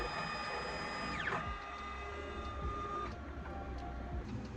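A medical lab analyzer running serum or plasma tests, giving off a steady mechanical whir with sustained tonal hums, a falling motor sweep and soft clicks, heard fairly quietly with no talking.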